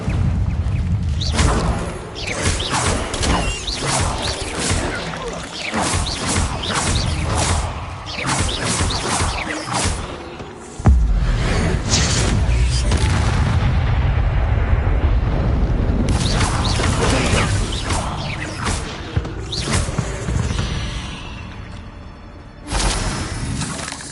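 Incendio fire spell cast repeatedly in a Harry Potter video game, loud bursts of fiery whooshes and booming crashes layered over dense game music and combat effects throughout.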